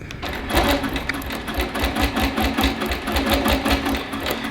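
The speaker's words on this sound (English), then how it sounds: "and I'm going to increase my stitch length as well. And we're just going to stitch." A long arm quilting sewing machine runs steadily at close range, stitching a grocery tote bag with a lengthened stitch, its needle beating in a fast, even rhythm under a low motor hum.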